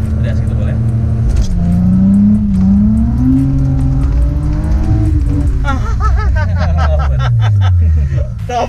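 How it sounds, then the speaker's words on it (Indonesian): A car engine revs hard and steadily during drifting, the pitch rising and falling as the throttle shifts, loud and close, with voices talking over it. "begitu start kita dengerin dari suara mesin aja"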